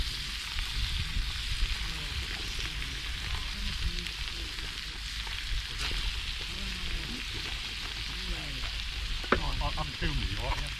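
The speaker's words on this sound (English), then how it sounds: "I'll cut up the veg and then cook it all up in the pan" Vegetables fry in a pan at a camp, giving a steady close sizzle with occasional stirring scrapes and faint talk in the background.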